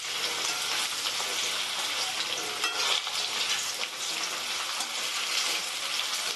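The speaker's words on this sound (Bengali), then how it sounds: "আমি এখানে আলুটা খুব ভালো করে ভেজে নিচ্ছি" Potatoes sizzling in hot oil in a pan, a constant crackling hiss like light rain, heard up close with brief scraping as they are turned.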